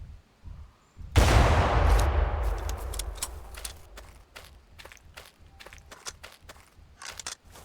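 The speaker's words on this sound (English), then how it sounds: "I wonder if I shoot this Ankylosaurus" In a dinosaur survival video game, a loud gunshot is fired at an Ankylosaurus and booms with a long rumbling decay. A run of sharp clicks and footsteps follows.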